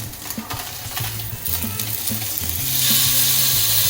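A seabream fillet frying in a hot pan, a loud continuous sizzle and crackle that swells toward the end, with faint scraping and light clinks close by and no voices.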